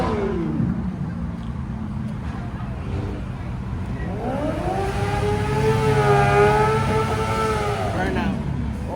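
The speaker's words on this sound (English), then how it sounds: "Oh, that boy doing a burnout." A car doing a burnout at a car show: an engine revs and climbs in pitch, rising to a loud held roar midway before easing off, with people talking and crowd noise throughout.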